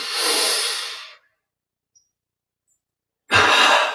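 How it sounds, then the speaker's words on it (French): Two breathy inhalations during a yoga breathing exercise, one drawn out and the other starting after a long silent pause, each a clear, close airy rush with no talking. "Double inspire."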